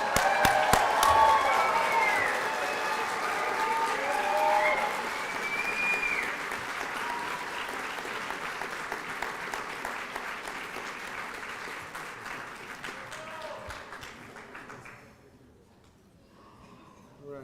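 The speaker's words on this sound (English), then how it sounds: "Nobody wants to clap for these graduates?" Graduation ceremony audience applauding the graduates, sustained crowd clapping with some cheering and voices mixed in, gradually thinning out and fading near the end.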